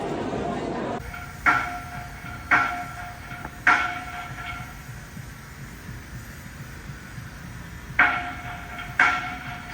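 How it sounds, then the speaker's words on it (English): Construction work at a hotel: about six sharp, resonant metallic bangs spaced irregularly over a low background hum, fairly loud and with no talking. "Excuse the background noise, there's obviously work going on at the hotel."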